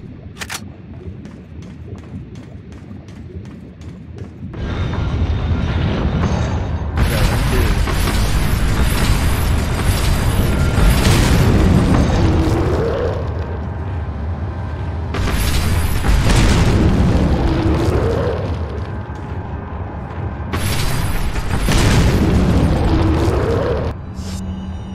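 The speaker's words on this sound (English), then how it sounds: "I'm just gonna start by just spamming my nades at both of them" Grenade explosions in the video game Resident Evil 4: a few heavy booming bursts, loud and close, each swelling into a broad roar before fading, set over continuous game noise with no talk.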